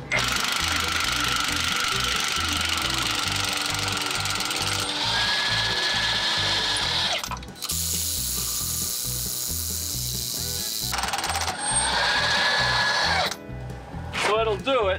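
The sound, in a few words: cordless impact gun with 1-inch socket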